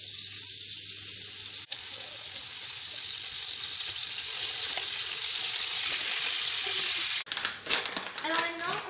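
Veal pieces hit oil and butter in a saucepan and sizzle loudly and steadily, broken by brief clatter of utensils and a short stir near the end.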